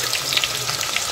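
Onion hitting hot tempering oil gives a steady, close sizzle with crackling spatter throughout, loud and unbroken for about a second.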